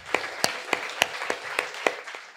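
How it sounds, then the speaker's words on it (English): Sparse, scattered handclaps from a small audience at a business event, about eight sharp claps spaced unevenly over a couple of seconds, fairly quiet with no voices. "Can we get a huge round of applause for"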